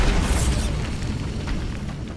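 A Bombarda spell blast in Hogwarts Legacy, heard as a loud, dense explosive boom with a rumbling low-end tail that lingers for about two seconds.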